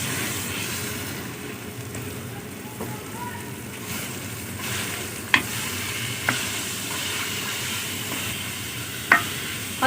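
Chicken keema, 500 grams of minced chicken, frying in a pan with garlic-ginger paste, giving a steady close sizzle with occasional sharp clicks and scrapes of a utensil, and no talking.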